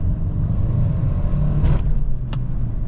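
A Renault Megane 3 Icon with the 1.5 dCi 110 hp diesel engine accelerates, heard from inside as a loud, steady low engine rumble rising under load, with faint clicks and no speech.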